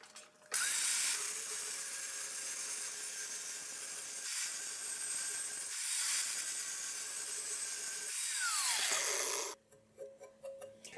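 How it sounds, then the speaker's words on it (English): A grinder sharpens a lawnmower blade from a 148cc Yard Machines mower, a loud steady high-pitched grinding whine with a few brief dips, then it cuts off into quieter clicks near the end. "I will get this blade scraped off and sharpened"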